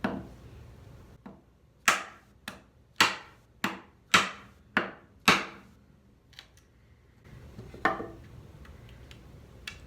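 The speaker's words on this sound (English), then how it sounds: "So I'm gonna put the chisel right on the knife line." Chisel set on a knife line and struck with a mallet to cut wood, about eight sharp, close, woody knocks in a quick series, then a few lighter taps after a pause.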